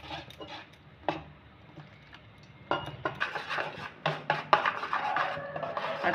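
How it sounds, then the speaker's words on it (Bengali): Batter for beguni, Bengali fried eggplant fritters, beaten by hand in a bowl, with irregular scraping and tapping strokes that grow busier and louder partway through, close and without speech. "তাতে খানিকটা সময় নিয়ে ব্যাটারটাকে আমি ফেটিয়ে নিয়েছি।"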